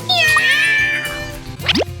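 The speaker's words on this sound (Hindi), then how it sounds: "ये रही रोबोट कैट।" A robot cat toy gives a drawn-out electronic meow, then a quick second rising mew, close and clear.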